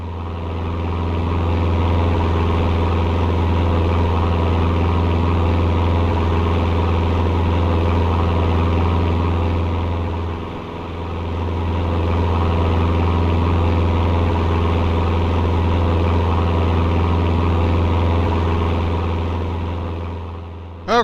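Aircraft engine holding cruise power in the X-Plane 11 flight simulator, a loud, steady low drone with a deep constant hum and a brief dip midway, no talk over it.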